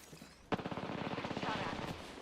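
Rapid automatic gunfire in Apex Legends opens with a sharp shot and runs as a dense, regular burst of cracks for over a second, moderately loud, with a brief lull before a final shot.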